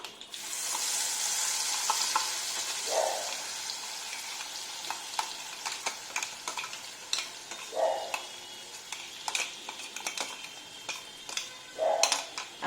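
Ground spice paste drops into hot oil tempered with black cumin and dried chillies and sizzles loudly at first, then settles into quieter frying punctuated by spatula scrapes and pan clinks.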